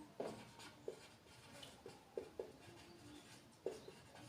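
Marker or chalk writing on a board during a math lecture, faint taps and short strokes at irregular intervals, quiet and nearby.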